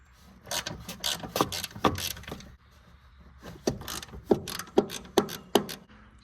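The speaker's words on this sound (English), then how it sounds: "So that bottom bolt was a 17, and I had to work it back and forth a little bit." Ratchet working a 17 mm bottom suspension bolt back and forth on a Nissan 350Z during subframe removal, a run of close, sharp clicking bursts with a brief pause midway, ending in several distinct louder clicks.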